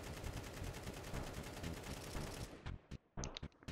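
Rapid automatic AK rifle spray in Counter-Strike 2, a dense continuous burst of loud gunfire that cuts off near the end, followed by a few short sharp shots and clicks.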